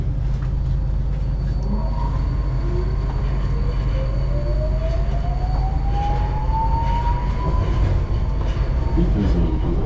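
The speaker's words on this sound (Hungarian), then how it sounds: "This is Metro Line M2" Budapest Metro Line M2 train running underground, a loud, close, continuous rumble of wheels on rails with a rising motor whine climbing steadily as it speeds up, alone without talk.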